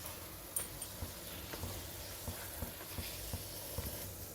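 Poli, a sweet flatbread, frying in ghee on a pan, a quiet steady sizzle with soft scattered pops and occasional clicks from stirring or pressing, no talk.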